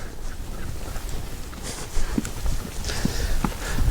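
A ridden young horse, a colt in training under a bosal, steps along with soft, scattered hoof thuds over a steady broadband outdoor background, the footfalls faint and irregular rather than a crisp rhythm.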